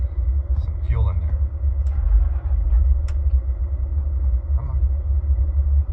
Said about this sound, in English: I'm pumping the gas, just kind of getting the RPMs up, trying to get everything to stabilize